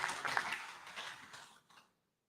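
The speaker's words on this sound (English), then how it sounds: "Clap for yourselves." Audience applause at a 2023 Uganda Joint External Evaluation meeting: a dense patter of many hands clapping at once, steady and moderately loud, then thinning and fading out after about two seconds.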